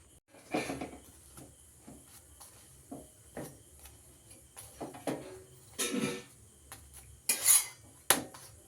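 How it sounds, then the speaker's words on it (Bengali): Rotis are fried in a pan at home for dinner, heard as quiet, intermittent clinks and knocks of utensils against cookware with soft rustling between them, without speech. "এখন আমি রুটিগুলো ভেজে নিচ্ছি"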